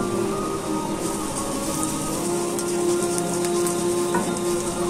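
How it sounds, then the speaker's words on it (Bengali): Panch phoron, the five-spice mix, sizzling in hot oil with onion and garlic while making tak jhal khatta; a steady, dense crackling hiss runs close and continuous throughout, with no voices. "গরম তেলে নেড়ে চেড়ে 5 ফোড়ন ঢেলে দিলাম।"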